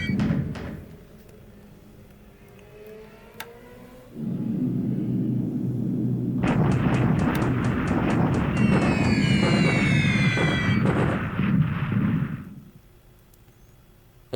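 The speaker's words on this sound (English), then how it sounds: "this is the strike against the ground forces" Air strike sound effects on ground forces in the War in the Pacific strategy game: a low rumbling drone swells up, then dense crackling bursts and whistling chirps play loudly before cutting off abruptly.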